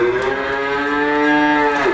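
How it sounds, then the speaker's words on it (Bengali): A Holstein Friesian heifer at a cattle farm gives one long, loud, close moo lasting about two seconds, with a steady drawn-out tone that rises slightly at the end. "পাঁচ নম্বরে দেখলেন হলস্টাইন ফিজান বকনা বাচ্চা"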